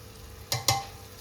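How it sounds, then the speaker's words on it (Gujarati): Two quick wet thuds of pressure-cooked bhaji dropped into a hot kadai, followed by a soft sizzle, close and fairly quiet. "આપણે જે કુકરમાં કમ્પ્લીટલી તૈયાર થઈ ગયું એ આપણે એડ કરવાનું છે કઢાઈમાં"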